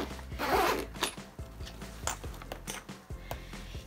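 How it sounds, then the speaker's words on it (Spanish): Close-up zipper being drawn open on a makeup bag, a series of quick ratcheting rasps and clicks, fairly quiet with no talking. "Se abre con una cremallera."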